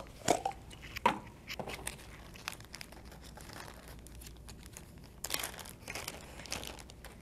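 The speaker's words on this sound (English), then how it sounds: "I'm gonna start by opening my bags" Plastic bags of slime-making supplies being opened, sharp crinkling and rustling in short bursts with a few crisp tearing snaps, close and fairly quiet with pauses between.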